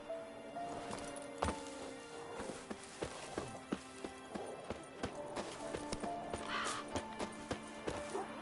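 Galloping hooves of the horse Roach in The Witcher 3 video game, a steady run of clip-clop beats with occasional thuds and clanks, moderately quiet under game ambience and music.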